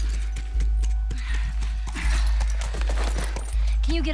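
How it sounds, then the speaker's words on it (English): A horse moves with clip-clopping hooves at close range, a steady run of sharp knocks over a loud low rumble, while people talk nearby. "Just get the horse."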